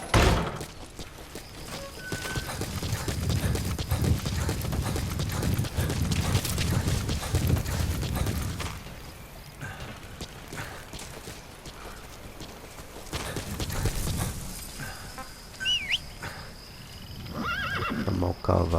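Horse galloping and whinnying in the video game Metal Gear Solid V, thudding hoofbeats with neighs over a continuous game soundscape, fairly close, with a voice talking intermittently over it.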